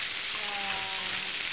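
Frozen octopus, shrimp and squid sautéing in a hot pan, giving a dense, even sizzle with faint hissing steam, up close for a brief moment.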